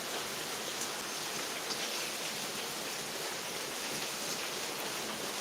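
Steady rain falls in Ernakulam district, Kerala, a dense, even hiss of drops on surfaces that is continuous and moderately loud throughout, with no voices.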